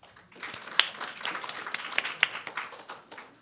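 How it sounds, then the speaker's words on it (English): A small audience at a nanoscience summer institute's final presentations applauds a student team: light, scattered claps and taps, fairly faint, over a low room hum for a few seconds. "Let's give them a round of applause as well."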